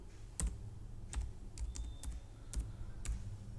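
Fingers typing an Excel VLOOKUP formula on a computer keyboard: about eight sharp, separate key taps with uneven gaps, close and fairly quiet over a low room hum.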